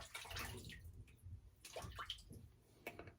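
A Mag T Delta open-comb safety razor is rinsed under running water, producing a steady hiss with bursts of splashing and gurgling, close to the microphone and with no talking.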